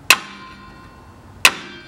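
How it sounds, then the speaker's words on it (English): A hammer lightly taps a screwdriver twice to seat a rear brake pad on a 2006–2013 Lexus IS250. Two sharp, close metallic clinks about a second and a half apart. "Take my screwdriver and a hammer and lightly just"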